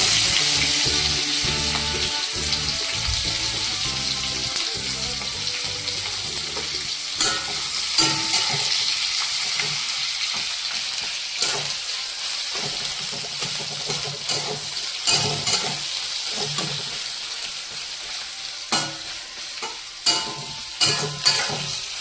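Chopped onion sizzles in hot oil with cumin seeds for a Kolkata-style ghugni, a steady frying hiss broken by repeated scraping stirs that grow sharper toward the end; no talking.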